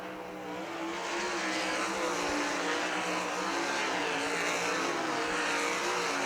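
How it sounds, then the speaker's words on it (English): Sprint-style race cars roaring through turns 3 and 4 during a heat race at Millstream Speedway in Ohio, a dense loud wash of engines building in the first second and then holding steady, with pitch sweeps as cars pass. "Everything pretty solid right now as Hill works into turns 3 and 4 for the final time"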